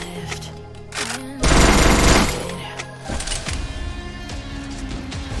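Rapid automatic gunfire in the Free Fire mobile battle royale game, with a loud sustained burst in the middle over a steady layer of in-game music and effects.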